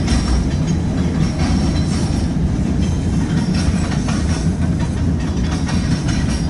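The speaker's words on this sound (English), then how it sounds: "This nice westbound manifest has a few fallen flags on it." A Southern Pacific westbound manifest freight train rolls past at close range near Fremont, Nebraska, with a loud, continuous rumble, rhythmic clatter from the cars and a faint wheel squeal.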